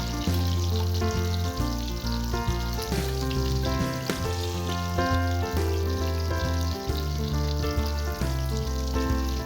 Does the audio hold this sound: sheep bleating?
no